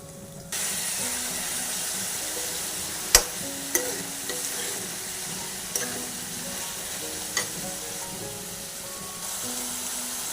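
Prawns and cucumber frying together in a pan, giving a steady broad sizzle with a few sharp clinks of a utensil stirring against the pan, and no voices.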